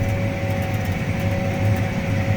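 A constant mechanical drone fills a big tractor's cab while disk-ripping, with a steady high-pitched transmission whine riding over a low engine rumble.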